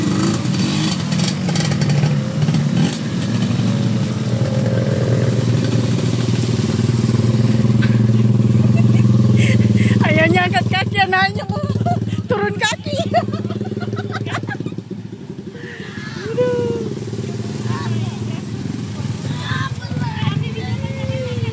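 Motorcycles ride through flood water from flash flooding after heavy rain, a steady near engine drone with splashing, while people talk throughout.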